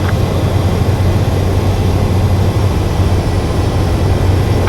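A jet fighter in Ace Combat 7 comes in to land on a runway, its engine a steady, loud, continuous low roar with no break or variation, and no voices.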